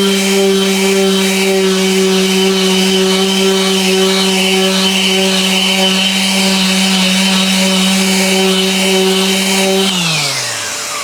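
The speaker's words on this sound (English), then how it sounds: "I'm gonna take my sander and sand right here just until this little line disappears" Power sander running steadily on the cured Total Boat tabletop epoxy seal coat along a table edge, a loud continuous whine with a strong hum that winds down at the end; no talking.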